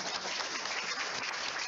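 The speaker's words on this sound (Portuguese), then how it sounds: "Já agradecendo e uma salva de palmas antecipada para esse trio aqui." Audience applause for a trio at a 50th-anniversary celebration, a steady wash of clapping that holds evenly through the short stretch with no voices over it.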